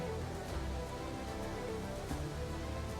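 Heavy rain pouring steadily, a dense continuous hiss of drops striking surfaces with scattered louder splatters, filling the whole stretch without voices.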